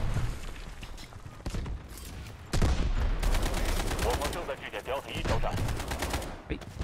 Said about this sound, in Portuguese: Quase tomei uma bala perdida ali.